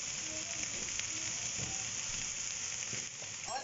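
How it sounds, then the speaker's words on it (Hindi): Vegetables frying in a pan with black pepper give off a steady, close sizzle with light occasional stirring scrapes, softening slightly near the end. "और इसे मैं सिर्फ 1 मिनट और फ्राई करूंगी"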